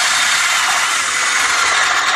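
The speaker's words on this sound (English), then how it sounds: "And I drill all the way through." A larger drill bit, lubricated with a little oil, bores through plywood and metal in a steady, loud grinding whir that runs unbroken without any talk.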